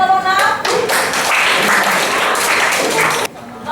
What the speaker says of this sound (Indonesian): beri tepuk tangan buat Rona